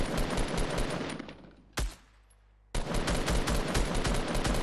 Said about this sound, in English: I could use my assault rifle.